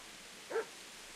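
A single short dog bark in Kingdom Come: Deliverance, one brief yip close by against a quiet background.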